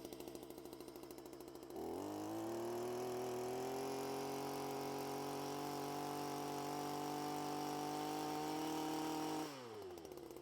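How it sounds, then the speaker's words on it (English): Small Yard Boss garden tiller engine revving up and running steady while tilling soil, a loud close droning whine held for several seconds before winding down, no talk. "The yard boss tilled and then stopped."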